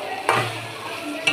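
Chickpeas fry in a pan for an iftar snack, giving a close, steady sizzle with two sharp stirring scrapes, one near the start and one at the very end.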